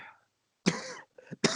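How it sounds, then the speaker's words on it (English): A few sharp, loud coughs from a person nearby in a brief fit, a short burst first, then two smaller hacks and a final cough after a short pause. "Are you having a coughing fit?"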